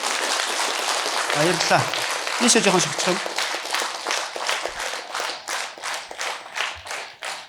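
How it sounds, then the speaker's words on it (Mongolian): A church congregation claps in a steady, rhythmic burst of applause that grows clearer and more regular toward the end, following a few spoken words and some shuffling. "Бүгдээ алга ташаа."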